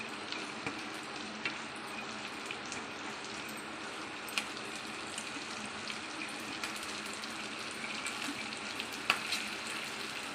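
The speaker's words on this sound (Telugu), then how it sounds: "ఇలా బటర్ మెల్ట్ అయిపోయినాక దీంట్లో ఫస్ట్ ఆనియన్ వేసుకోవాలి. హై ఫ్లేమ్లోనే పెట్టుకోవాలండి." Onion fries in melted butter over a high flame, a soft, steady sizzle with occasional small pops and light stirring clicks, fairly faint and without any voices.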